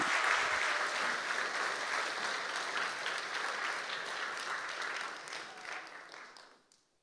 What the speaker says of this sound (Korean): 우리 구영우 전사님 앞으로 모실 때 뜨겁게 박수하겠습니다